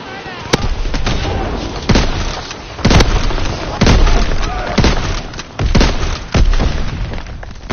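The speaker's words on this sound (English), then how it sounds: "Charges detonated!" Demolition charges exploding in Call of Duty: WWII: a string of loud, close booming blasts, about eight over several seconds, each sharp onset rolling into heavy rumble, with gunfire and voices mixed through.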